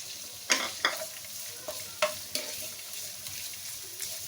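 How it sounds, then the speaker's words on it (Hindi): Salted bitter gourd peels fry in oil in a pan over medium flame, with a soft, crackling sizzle broken by several sharp spatula scrapes and stirring clacks. The cooking sounds are close and fairly quiet, with no speech. "इनको ये 2 टेबलस्पून ऑयल डाल रही हूँ। इसमें हमने फ्राई कर लेना है।"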